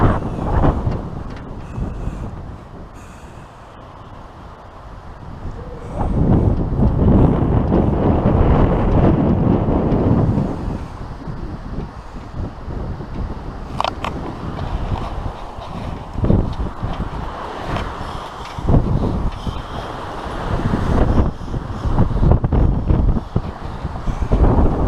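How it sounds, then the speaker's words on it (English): Strong wind buffets a campsite, loud gusty roaring microphone buffeting that swells and eases in waves, quieter at first then surging heavily for most of the time. "Oh, but there's wind."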